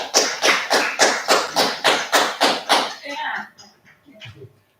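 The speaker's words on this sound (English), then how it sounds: "give a big round of applause to all our presenters and our wonderful program director for a fantastic job today" A single pair of hands claps in a steady, even rhythm, about nine sharp claps, before fading into faint, scattered rustling and a low murmur.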